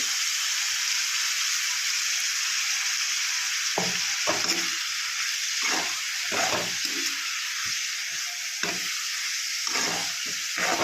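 Broad bean kasundi sizzling steadily in a pan as it is stirred, with irregular scraping and clattering strokes of the spoon breaking through the constant frying hiss, close and loud with no talking.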